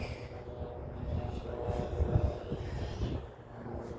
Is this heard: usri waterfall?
no